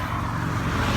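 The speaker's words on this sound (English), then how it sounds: "I'm walking near traffic, so, you know, excuse the little background noise." Road traffic heard while walking nearby, a close, steady roar of passing cars with no voices over it.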